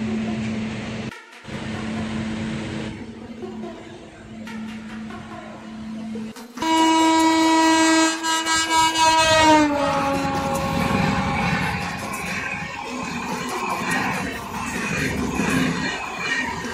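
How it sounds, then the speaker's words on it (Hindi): A passenger train pulling away from Tandari, a small halt station on the Ludhiana to Sahnewal line, with a steady rumbling roll, a long sustained horn blast partway through, and continuous clatter building as it moves. "देर बाद ट्रेन चली है, 15 मिनट लेट चली है।"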